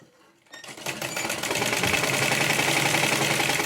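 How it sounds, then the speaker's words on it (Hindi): A sewing machine stitches the waistband of a Patiala pajama, whirring up from silence after half a second into a fast, steady, close mechanical chatter that runs to the end without speech. "इस पे इस तरह से पट्टी रखूंगी और सिलाई चला लूँगी इस तरह से"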